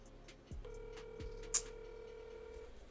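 Phone keypad tones sound while voicemail is checked: a pair of low clicks, a steady sustained tone across most of the stretch, and one sharp bright beep in the middle, all close and fairly quiet.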